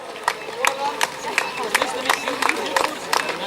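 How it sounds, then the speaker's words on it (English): Handheld clappers rattle from a crowd lining a triathlon finish line, sharp repeated clacks every half second or so, loud and close, over a bed of murmuring spectator chatter. "It's amazing how loud those clappers are."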